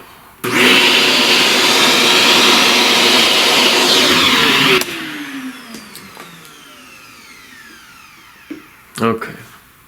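A vacuum cleaner runs loud and steady for about four seconds, lifting pastel dust off a drawing, then cuts off and winds down, followed by faint handling noises and a brief knock.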